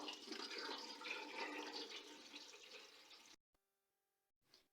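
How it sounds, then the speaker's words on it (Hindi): Cold water pours over boiled macaroni in a steady, rushing stream for about three seconds, then stops abruptly, leaving near silence and one faint final splash. "देखिए हाथ में से अच्छी तरह इसके ऊपर मैं ऐसा ठंडा पानी डाल दूंगी।"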